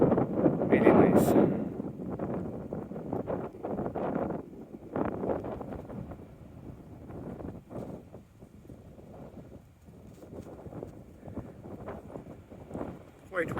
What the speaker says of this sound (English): Quite windy around here.